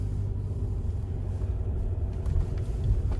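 A SsangYong Musso Saracen pickup in rear-wheel drive rolls along an icy, ungritted Cumbrian road, a steady low engine and tyre rumble heard from inside the cab, without speech.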